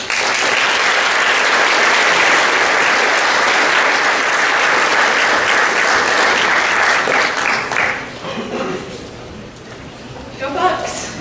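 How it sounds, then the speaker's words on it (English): Loud, sustained applause from a banquet audience at a high school athletic awards event honoring the coaches, dense clapping fading near the end with a few voices and cheers. "Give them a round of applause."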